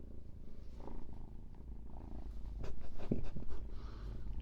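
A small kitten purrs steadily and close by, a continuous low rumble across the whole stretch with a brief soft snort-like sound near the middle.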